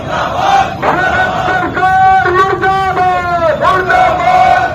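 A crowd at a BJP event shouting slogans together, loud rhythmic group chanting in repeated bursts, with overlapping voices rising and falling throughout.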